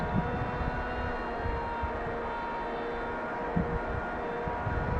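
A 3D-printed FPV cruiser model plane flies in gusty wind, its steady distant motor drone humming at low level with faint buzzing overtones and no talk.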